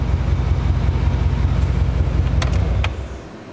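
A 2013 GMC 2500HD truck with 180k miles and fresh spark plugs and wires idles through its exhaust, a steady low throbbing rumble close by that drops away near the end, with a couple of brief clicks and no talk.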